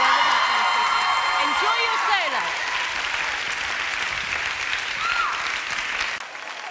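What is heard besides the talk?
audience applause and cheering for a dancer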